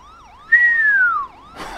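A fire engine siren in the video game GTA 5, a loud, close wailing yelp that cycles rapidly up and down while a sustained tone sweeps across it, ending in a burst of noise.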